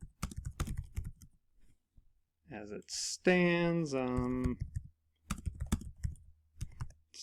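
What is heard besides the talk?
typing on computer keyboard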